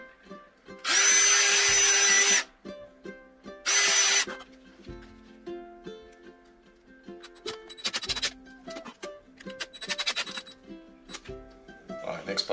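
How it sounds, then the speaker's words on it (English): A power drill whirs loudly in two bursts while drilling holes for a uPVC hinge, the first longer than the second, followed by scattered clicks, scrapes and clatter of handling. "let's drill two new holes"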